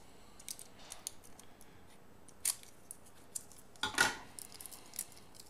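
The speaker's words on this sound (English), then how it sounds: "If I can cut through this without cutting the card," Scissors snipping through a Magic card pack's foil wrapper, a few faint, sparse clicks and crinkly cuts close by in a quiet room, with a slightly louder crunch toward the end.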